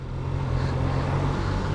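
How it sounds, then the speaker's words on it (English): A Yamaha Niken, the three-wheeled motorcycle with two front wheels, ridden at steady speed, its engine a constant low drone blended with rushing wind noise, close and fairly loud, with no talking. "We are riding the Yamaha Niken or Niken, whatever it's called."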